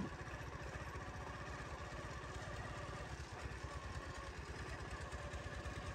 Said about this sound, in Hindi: अभी सुने पीटर चल रहा है